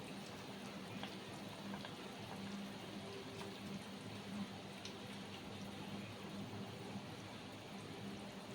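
Fried fish simmering in boiling water in a wok for a Bengali-style folui fish curry, giving a steady, even bubbling hiss close by with faint crackles, alone and without talk throughout.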